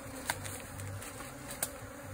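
Bees buzz steadily around a hive inside a tree trunk during a rescue, a continuous close drone with a couple of brief louder passes and no talking.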